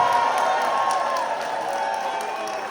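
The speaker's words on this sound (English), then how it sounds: "Let's give them all a round of applause" Audience applause and cheering at an assembly event on fair pay for direct support professionals, with sustained dense clapping from a large crowd in a room, loud and steady, easing slightly toward the end.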